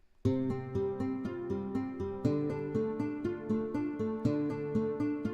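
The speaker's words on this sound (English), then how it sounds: "Let's just grab the acoustic Spanish and just hear what that sounds like for now." A nylon-string acoustic guitar plays a repeating pattern of plucked notes and chords in a steady rhythm, each note ringing and fading.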